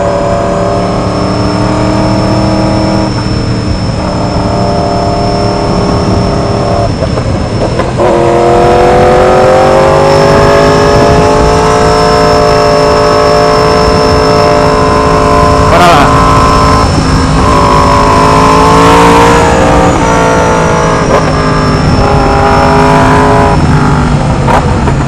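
A 2016 Yamaha R1 sport motorcycle on a ride, its engine and exhaust droning loud and close, with pitch rising on acceleration and some crackling pops; faint rider talk sits under the engine noise.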